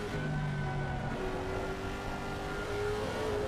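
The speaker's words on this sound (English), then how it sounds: "Damn, that engine sounds really nice." A Lexus GT3 race car engine in the Assetto Corsa Competizione racing game drones steadily at high revs, a continuous, loud mechanical hum with shifting pitch.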